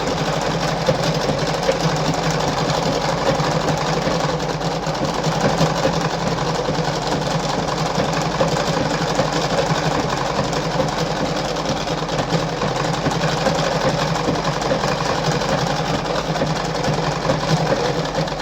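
A Singer model 5107 sewing machine stitches steadily for the whole stretch, a loud, close, continuous mechanical whirr and rattle with no talk over it.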